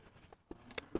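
A pen scratches across paper in short, faint strokes and taps, with quiet pauses between marks and no talking.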